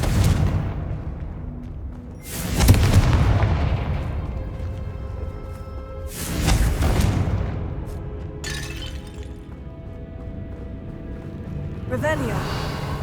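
Two heavy fire-blast explosions from the Confringo spell in Hogwarts Legacy, each a sharp loud burst with a rumbling tail, set several seconds apart among ongoing game effects and music.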